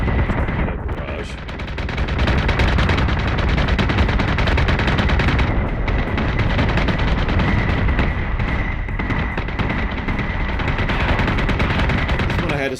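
Sustained space-battle barrage in Battlestar Galactica Deadlock, a dense, loud wall of rapid gunfire and booming blasts rolling continuously for the whole stretch, with a brief dip near the start.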